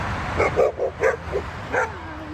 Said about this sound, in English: Sweetest little puppies.